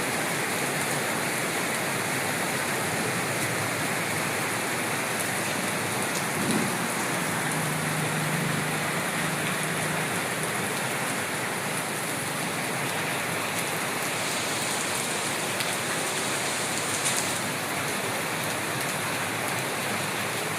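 Monsoon rain pours down on trees and plants in the Andaman Islands, a dense, continuous wash of rainfall, steady and enveloping with no voices.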